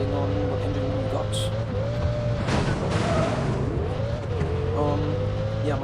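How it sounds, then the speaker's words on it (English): A car engine from an old mobile racing video game drones steadily, its pitch rising and falling as the car accelerates and shifts. Tyre squeals break through now and then, and a person talks over the game sound. "The engine sounds change depending on what engine you got."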